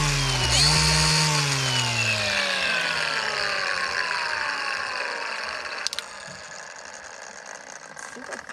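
A Dewalt 20V Max lithium-ion brushless cordless string trimmer runs on its low setting, giving a steady, fairly quiet motor whine that holds through the clip after a brief start-up.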